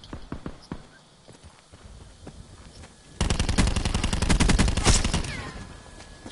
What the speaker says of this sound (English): They're on the roof, shooting from roof.